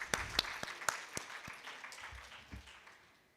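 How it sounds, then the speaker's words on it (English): A short burst of audience applause at a workshop session, with a few distinct sharp claps up front that thin and fade out over about three seconds, fairly faint and sparse. "give a big round of applause for Pawan sir"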